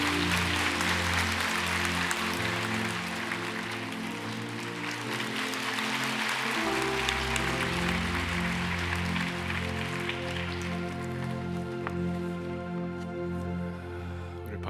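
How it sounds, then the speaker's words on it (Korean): A church congregation claps to welcome the pastor, a sustained wash of applause layered over loud organ or keyboard music chords that continue throughout. "우리 목사님 박수로 한번 환영하면 어떨까요?"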